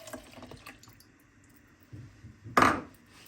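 Warm milk poured into a bread dough mixture of water, yeast, sugar and salt, a brief liquid splash near the end after soft clinks of kitchen utensils, fairly close and with no talk.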